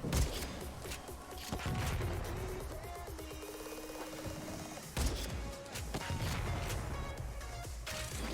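Cannon-like explosion from a weapon in the video game Warframe: a sharp, booming blast with a heavy crash, followed by a rising mechanical whine and then a second loud impact, with no talking.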